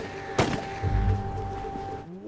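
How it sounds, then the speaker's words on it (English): A shot rings out near the start from a scene in the FARGO television series, a sharp burst followed by a lower rumbling impact under background score and ambient sound. "Whose gunshots were that?"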